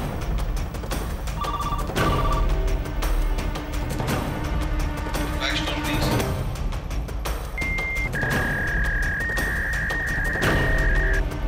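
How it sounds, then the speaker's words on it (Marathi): A telephone rings in a tense indoor scene of a Marathi TV drama, its shrill tones sounding in short bursts early on and then as a longer sustained ring, partly buried under loud background music. "तू फोन घे जरा."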